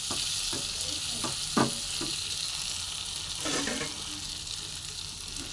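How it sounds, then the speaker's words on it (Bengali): Onion, tomato and capsicum sizzling in a pan as a sattu jhala cooks, an even frying hiss broken by several clinks and scrapes of a spatula, close by and without voices. "পেঁয়াজ, টমেটো, ক্যাপসিকাম এখানে সুন্দর করে ভাজা হয়ে গেছে"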